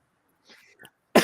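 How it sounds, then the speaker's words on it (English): A single short, sharp cough into a radio microphone during a sports talk show, loud and close, coming right after a few soft breathy mouth sounds. "Right when you crack the mic, oh, I got a cough."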